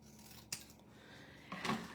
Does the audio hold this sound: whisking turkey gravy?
no